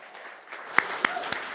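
Applause for prayer chaplains at a church service starts as a soft crowd wash and swells, with a few sharp nearby claps standing out.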